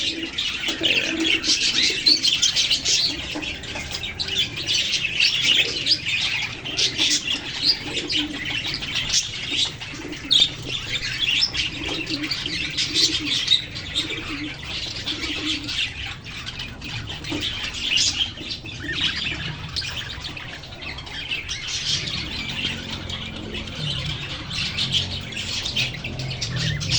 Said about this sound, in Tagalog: Alaga kong parakeets.